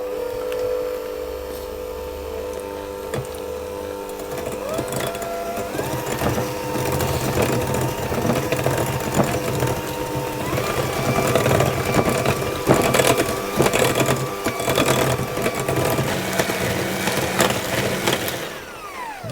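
Electric mixer creaming butter and sugar for a traditional Tottenham cake: a steady whirring motor drone, loud and close, with rhythmic beater scraping and slight pitch changes, running alone throughout.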